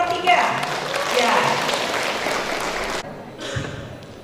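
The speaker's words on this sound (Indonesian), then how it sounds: "Tepuk tangan untuk paslon nomor 3." An audience at a Pagaralam city mayoral election debate applauds candidate pair number 3 in a full, fairly loud burst that cuts off abruptly, followed by a lighter patter of clapping; voices talk faintly over it.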